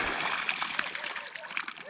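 Water splashes and sloshes as freshly caught crucian carp are lifted out of a keepnet on the Dnieper, with irregular close splatters and gurgles over about two seconds.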